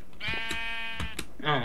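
A sheep bleats in the video game Minecraft, one clear drawn-out bleat up close, followed by the start of a second, with faint talk around it.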